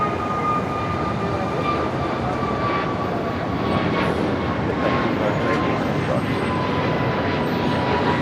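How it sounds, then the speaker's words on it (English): Turkish Airlines airliner taxiing along a taxiway at Los Angeles International Airport, a steady, loud jet engine roar with a continuous whine, heard from a distance without break. "Turkish Streamliner continuing his taxi down at Bravo, heading to 25 right."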